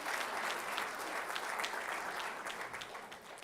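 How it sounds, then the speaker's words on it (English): An audience at a conference on the state of Africa applauds, a dense wash of clapping that holds steady, then thins slightly toward the end, heard at a moderate distance without speech. "Give him another round of applause."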